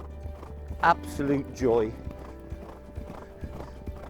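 The racehorse Corach Rambler gallops across hallowed turf, its hooves beating a steady, muffled rhythm. The hoofbeats run low under someone speaking close by, with a few louder breathy bursts.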